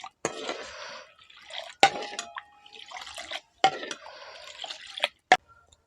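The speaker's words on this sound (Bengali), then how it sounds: "এবার আমি 1 লিটার দুধ নিয়েছি, এই দুধটা এখন সরাসরি কড়ার মধ্যে দিয়ে দিচ্ছি।" One litre of milk is poured straight into a kadai cooking pan, with a thin trickling pour, light splashes and a few sharp clinks and drips spread across several seconds.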